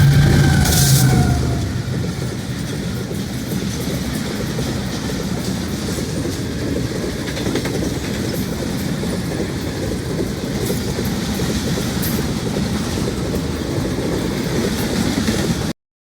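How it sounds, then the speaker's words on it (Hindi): A train rolls steadily past beside potato fields in the countryside, its continuous rumble and wheel clatter loud and close throughout, without any talking. "और साथ ही ट्रेन का टाइम हो रहा था।"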